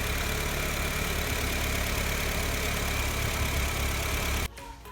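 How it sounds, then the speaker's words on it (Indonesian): A Honda Mobilio engine idles with engine flush added to the oil, a steady loud close drone with a faint knocking texture that cuts off abruptly near the end. "operasikan mesin selama 10-15 menit supaya dia bekerja membersihkan ruang mesin"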